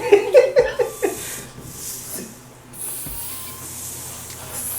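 A person imitates a snake hissing with the tongue out, producing breathy hisses after some laughter and vocal noises at the start, with a longer hiss toward the end.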